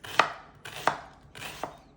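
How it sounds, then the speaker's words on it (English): A knife chops through onion on a cutting board, three crisp strokes about a second apart, close and clear with no talking. "It's actually chopping the onion."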